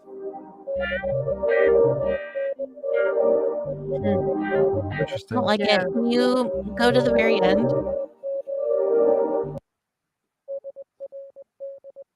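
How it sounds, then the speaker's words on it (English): Morse code beeps play as a steady tone switching on and off in short and long pulses, heard under conversation that runs over most of the sound before a few isolated pulses continue alone at the end. "It's just Morse code."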